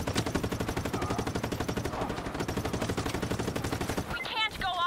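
Rapid automatic gunfire in Just Cause 3 hammers out in a steady, fast rhythm for about four seconds, loud and close, then cuts off into brief whooshing effects.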